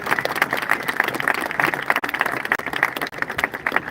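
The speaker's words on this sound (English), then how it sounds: "give our district administrators a huge round of applause" Graduation audience at a junior high ceremony applauding district administrators, a moderate, uneven patter of many hands clapping with slight dips in intensity.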